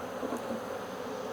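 Honeybees from a newly purchased hive make a steady, faint buzzing drone, continuous and even with no other sounds.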